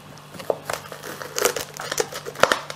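Knife cutting through a wrap filled with red pepper and chili, giving crinkly, crackling tearing sounds in irregular bursts, close and fairly loud, with no clear speech.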